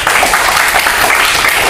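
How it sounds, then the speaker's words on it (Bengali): Dense, loud applause from an audience at a school alumni forum and debate club event, steady throughout this short burst. "তাদের জন্য সর্বশেষ আরেকটি হাততালি এবং কৃতজ্ঞতা"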